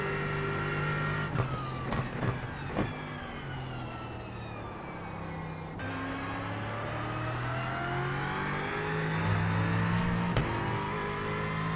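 A race car engine revs and climbs through gears, pitch sweeping up and dropping again, with sharp clicks between shifts, steady and fairly loud throughout.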